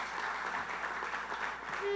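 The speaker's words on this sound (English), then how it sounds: "Give yourselves a round of applause" A crowd at an evening political party meeting in Trinidad and Tobago applauds in a continuous, moderate patter that stays at an even level throughout.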